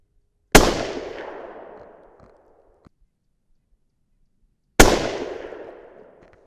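Two single shots from a 300 Win Mag rifle during a bench test, each a sharp, very loud close crack followed by a long decaying echo, spaced about four seconds apart.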